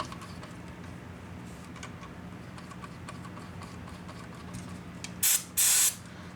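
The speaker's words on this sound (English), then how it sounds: "I get this electro contact cleaner, or QD contact cleaner, and I spray the pot down" Two short, loud hissing bursts of contact cleaner sprayed onto a potentiometer in a 19-inch G07-CBO arcade monitor, following quiet workbench ticking and faint background hum.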